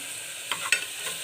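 Tomatoes and green chillies sauté in a pan for kaadai gravy, a quick, quiet sizzle with two or three soft stirring scrapes, close by, and no voices.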